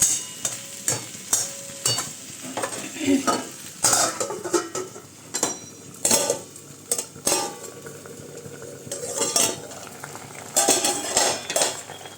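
Capsicum, onion, potato and peas sizzle in a pan while a utensil repeatedly scrapes and clanks against the metal in irregular bursts of stirring, loud and close.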